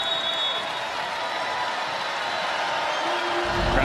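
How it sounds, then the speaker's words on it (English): A volleyball arena crowd at the Devaney Sports Center roars steadily with cheering and applause during a Nebraska versus Northwestern NCAA women's match, a broad, sustained wash of noise throughout. "Crowd trying to get into it here at the Devaney Sports Center."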